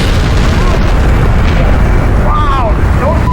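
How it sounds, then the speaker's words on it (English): A massive explosion at a rocket fuel plant, heard as a sustained loud deep roar and rumble filling the whole stretch, with faint whistling tones rising briefly above it. "The explosion is massive."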